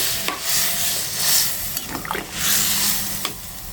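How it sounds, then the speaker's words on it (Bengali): Hot water goes into a sizzling jackfruit and shrimp curry in a pan, raising a close, steady sizzle and bubbling hiss that swells and fades, with occasional scraping stirs and no talk. "এখন আমি দিয়ে দিচ্ছি গরম জল আমি ঝোল রান্না করব না তার জন্য কম জল দিচ্ছি"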